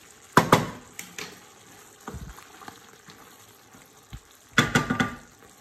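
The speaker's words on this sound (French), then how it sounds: "J'ai fait revenir et après vous rajoutez de la crème." Salmon fillets pan-fry with cream and spices in a soft, steady sizzle. Intermittent clattering bursts of utensil against pan, near and distinct, come at the start and near the end, without talk.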